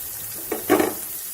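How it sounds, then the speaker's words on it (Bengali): Chopped onion, chilli and garlic tossed into hot mustard oil, making two quick sizzling bursts close by over a quiet background, with no speech. "এবারে গরম তেলের মধ্যে দিয়ে দিচ্ছি কুচানো পেঁয়াজ এবং লঙ্কা"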